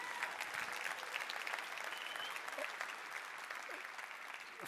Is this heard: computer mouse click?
no